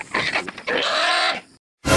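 A pig shrieks loudly and continuously at close range as it is slaughtered before roasting for a birthday feast, with a brief break and then another burst of squealing.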